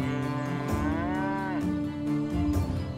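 Cows low in the video game Medieval Dynasty, with two long, close moos following each other, the second rising and falling in pitch, heard alone without talk.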